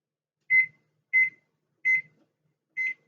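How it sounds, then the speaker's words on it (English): A kitchen timer, set while food simmers on the stove, gives four short, evenly spaced electronic beeps, clear and close in an otherwise quiet room. "I'm going to lower the heat so it'll just be at a simmer, and then I'm going to set my timer"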